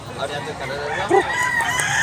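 A two-year-old White Ligin gamecock crows at a busy Cebu market, a single drawn-out cock-a-doodle-doo in the second half over background chatter and market noise.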